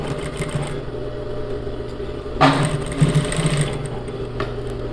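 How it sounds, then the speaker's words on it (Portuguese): Nearby, a sewing machine runs steadily as it stitches over an existing seam on a blouse armhole, its motor hum continuous and even, with a brief louder clatter midway. "Vou costurar. E aí você pode costurar por cima da costura que você já fez."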